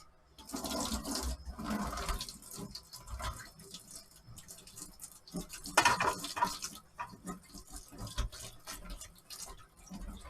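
Spinach rinsed under running tap water, an irregular splashing rush with clattering handling noises, close by and moderately loud, surging midway before settling.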